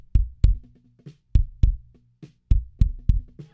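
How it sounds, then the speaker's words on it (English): Kick drum captured by the inner microphone with an EQ preset: tight, deep thumps in a steady groove, with softer snare and cymbal bleed between hits, dry and close. "And then the inner kick with the EQ sounds like this."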